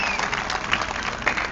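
Audience applause at a Holi comedy poetry show, a short burst of clapping from a crowd at moderate loudness that briefly overlaps with speech.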